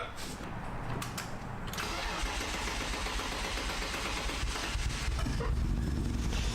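Barn find car engine cranking and catching, then settling into a steady rough idle with a broadband rumble, fairly faint and close-miked.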